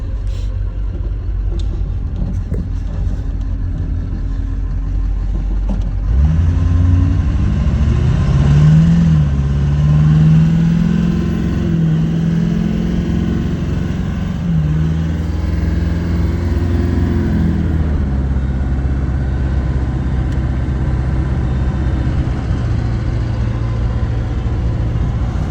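A cold Duramax diesel swapped into an OBS Ford truck revs up, a steady low idle rumble rising into a loud, sustained rev lasting several seconds before settling back to idle.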